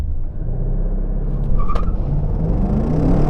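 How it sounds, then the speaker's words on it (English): An Aston Martin V12 Vantage attempts a launch start on a track, a loud low engine roar that surges as the car pulls away, with a short high whine partway through and no speech. "So Aston Martin aren't very happy with my attempt at a launch on the track."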